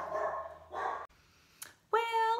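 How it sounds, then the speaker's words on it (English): A dog barks at a delivery man at the front door, with two or three loud, close barks separated by a brief pause. "Dog's gonna bark."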